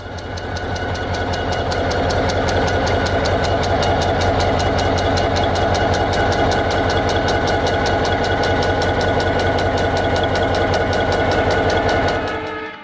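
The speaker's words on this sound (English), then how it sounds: "a diesel locomotive engine has 16 cylinders V16, but may range from 12 cylinders V12 to 18 cylinders V18" A WDP4 series diesel rail locomotive engine runs steadily at close range, its loud, even rapid knocking pulse and deep rumble holding constant for about thirteen seconds before easing off at the end.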